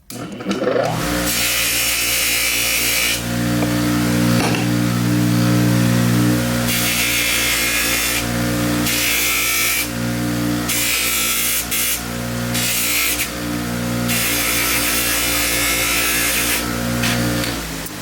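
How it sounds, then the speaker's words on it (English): An electric buffer polishing copper jewelry runs continuously with a loud motor whine, and its tone rises and roughens as the piece is pressed against the spinning wheel. "I'm going to turn on my buffer and show you guys how quick it works and how effective it is at polishing something up."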